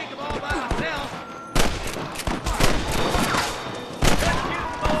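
Gunfire in the Red Dead Redemption 2 video game: repeated loud, close shots and rapid bursts that crack out over a busy scene, mixed with shouted voices.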